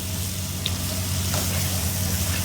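Chopped tomato going into a pan of frying ginger, a close, steady sizzle of oil that holds evenly throughout.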